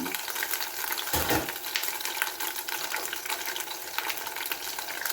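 Oil sizzling in a pan while frying for pork liver steak, just before garlic and onion go in, a steady hiss and crackle with a short louder splash of stirring near the start.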